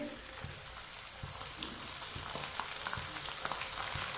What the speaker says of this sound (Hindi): प्याज को हल्का सा ब्राउन कर लिया है मैंने। सब्ज लहसुन डालेंगे।